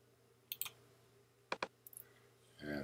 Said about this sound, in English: So I double click it.